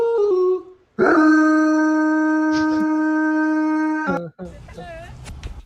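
A dog howls in a long, sustained, wavering tone lasting a few seconds, preceded by a short whine and followed by rustling noise.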